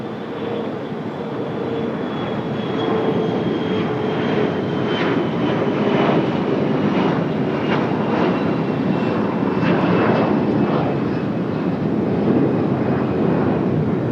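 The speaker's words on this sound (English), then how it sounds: "Got a little United Express CRJ on the move" A United Express CRJ regional jet taxiing at Raleigh-Durham airport, a steady engine whine and rumble holding at a constant level throughout, with a thin tonal whistle running over the noise.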